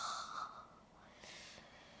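A deep breath during a yoga flow, with a strong airy rush that fades into a softer second breath, close and quiet with no talking.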